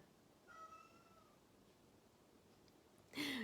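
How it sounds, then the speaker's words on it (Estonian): A house cat meows once, a clear drawn-out cry early on, fairly faint in a quiet room, followed near the end by a sudden loud rustle. "Kass ka nutab selle peale"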